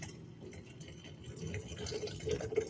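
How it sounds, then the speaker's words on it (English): Kettle water poured in the kitchen: a soft, steady splash and trickle that grows a little louder toward the end, with no voices. "that's the rest of the water added"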